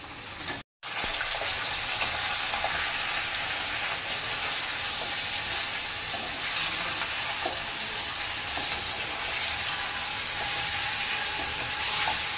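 Chicken going into golden-fried onions for a chicken curry sets off a loud, continuous sizzle with steady frying hiss and faint stirring scrapes, heard up close and alone after a brief cut near the start.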